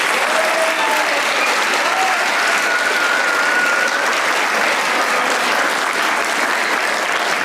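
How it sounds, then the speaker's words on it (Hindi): A studio audience at a comedy talk show claps warmly for a TV actress and film director, dense continuous applause filling the room at steady volume, with a faint voice briefly present. "तालियां बजाएं भाई मरीना के लिए"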